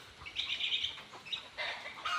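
Birds near a tree by a house chirp in a quick, high twittering burst, then a few more calls, fairly faint and without any talking.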